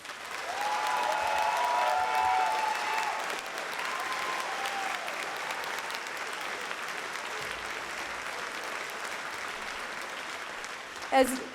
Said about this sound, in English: you deserve a resounding round of applause